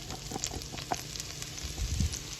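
Chopped onions and leeks soften in olive oil in a pan for a wild venison casserole, producing a soft, steady close sizzle dotted with light crackles.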